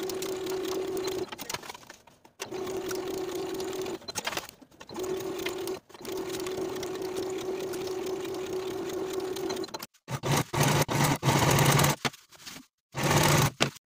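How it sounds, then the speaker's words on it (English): A sewing machine stitches shoulder and side seams on a top, running in steady whirring bursts separated by short pauses, close and fairly quiet, with some handling noise and brief faster runs toward the end. "Sew both shoulder seams and both side seams with a 1/2 inch seam allowance and finish your raw edges."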